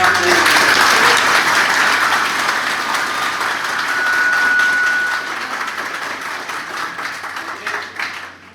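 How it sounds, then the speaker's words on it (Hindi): Loud, dense applause from a large audience cheering Suraj Yadav, who cracked the SSC CGL exam, sustained at full strength for several seconds before gradually thinning toward the end. "तो जोरदार तालियां एक बार बजाएं"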